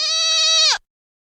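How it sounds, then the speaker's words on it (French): A single goat bleats loudly and close, one sustained quavering cry on a farm that breaks off sharply, followed by silence. "c'est parti pour la grande chorale des chèvres"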